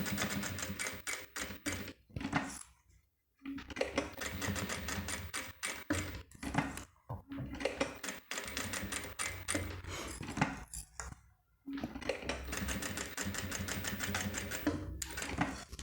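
Domestic sewing machine stitching a small square to fasten a bag handle on a cosmetic case, running in fast rattling bursts with short pauses between runs, close and steady.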